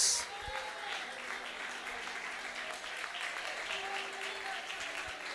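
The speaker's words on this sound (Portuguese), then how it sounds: "desocupe suas mãos e aplauda ao Rei da Glórias." A church congregation claps together at a Portuguese-language worship service, a steady dense applause filling the room from start to end at moderate level.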